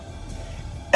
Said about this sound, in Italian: Ho anche la tosse.